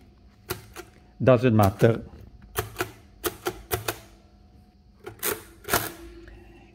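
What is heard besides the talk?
keys pressed on 1930 Torpedo Addiermaschine mechanical calculator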